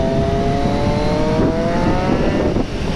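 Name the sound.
Triumph Street Triple RS 765 three-cylinder engine whistle with SC Project exhaust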